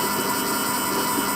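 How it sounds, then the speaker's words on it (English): A CNC machine's axis motor drives the axis at speed, giving a steady electric whine and hum that holds level throughout, with no voices. "we can go ahead and try to move the motor"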